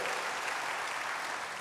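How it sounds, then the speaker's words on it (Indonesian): Church congregation applauding during a sermon, a brief, fairly faint, continuous patter of many hands clapping together. "Yang mau berikan tepuk tangan bagi Tuhan."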